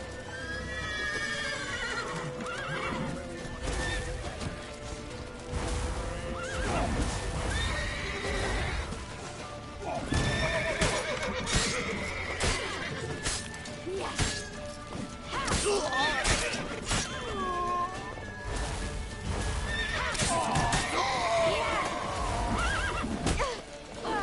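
Horses whinny and neigh repeatedly amid clattering hooves and crashing impacts in the video game The Witcher 3, a busy, chaotic scene with occasional shouting voices.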